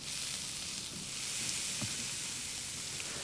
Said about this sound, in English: So a knob of butter, pan starts to sizzle, which is exactly what I'm looking for, and I'm going to put the skin side down first.